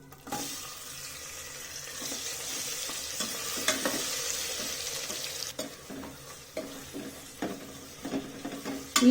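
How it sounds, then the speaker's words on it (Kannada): Chopped onions fry in oil with masala for egg biryani, giving a close, steady sizzle broken by intermittent scraping and clinking as they are stirred in the pan. "ಈರುಳ್ಳಿನ ನೀಟಾಗಿ ಫ್ರೈ ಮಾಡ್ಕೊಳ್ಳಿ."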